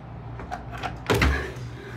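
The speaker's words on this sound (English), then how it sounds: "Open the door." A house door being opened as someone arrives at a home: faint clicks of the handle and latch, then a louder thud and swish as the door swings open, with low room hum throughout and no talking.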